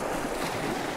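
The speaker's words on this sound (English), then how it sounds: "They're not the biggest of waves" Small ocean waves wash over dark rocks in a steady, close rush of broadband surf, with some wind noise and no voices.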